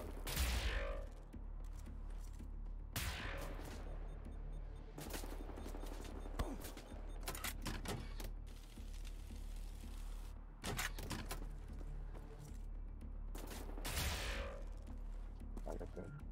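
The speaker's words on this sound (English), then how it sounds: "Oh yeah, this gun is very, very loud." A very loud gun fires in Wolfenstein: The New Order, single sharp blasts spaced a few seconds apart with a few quicker pairs, each loud and close over a low steady background rumble.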